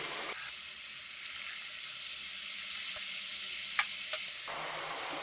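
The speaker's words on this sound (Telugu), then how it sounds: "ఆయిల్ బాగా హీట్ అయ్యాక మనం ముందుగా చేసుకున్న చెక్కలని ఆయిల్కి సరిపడా ఇందులోకి తీసుకోవాలి." Rice flour chekkalu frying in hot oil give off a steady, close sizzle and hiss that fills the whole stretch, with a couple of faint clinks partway through.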